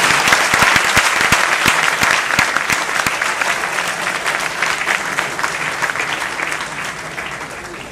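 An audience applauds the cast and musicians after a Hindi stage play, loud dense clapping with a few sharp individual claps standing out early, tapering slightly toward the end.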